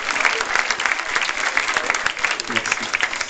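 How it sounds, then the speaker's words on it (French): An audience bursts into lively applause for a family being honoured at a parish and school anniversary celebration, many hands clapping close and loud with some crowd murmur mixed in, rising and falling in quick bursts. "Bravo, on peut applaudir la famille Delabrosse."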